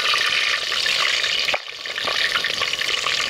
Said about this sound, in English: So our oil is ready. We'll just dip our wedges inside.